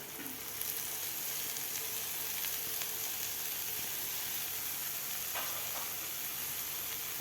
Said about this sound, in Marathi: आता यामध्ये घालायचं आपल्याला किसून घेतलेलं पनीर